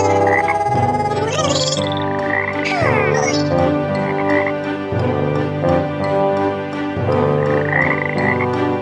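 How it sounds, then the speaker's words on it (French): Frogs croak in a dense, continuous chorus, with overlapping rhythmic calls close by and no talking. "Ce sont des grenouilles."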